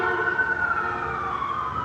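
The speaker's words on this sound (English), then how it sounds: "that's an ambulance" An ambulance siren wails steadily at a distance, its tone drifting slowly over an outdoor background with no talk.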